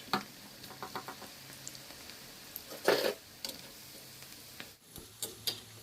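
Oil sizzles and crackles steadily as cabbage fritters deep fry, with occasional louder bursts of bubbling and light clinks, no talking.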